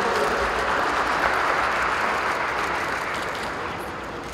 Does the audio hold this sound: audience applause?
yes